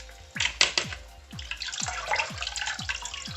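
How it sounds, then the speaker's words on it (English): Water is poured over bitter leaf to wash sand from it, making repeated splashing pours and drips close by, with a rhythmic series of droplet plinks throughout and no speech. "Just put in the water like that."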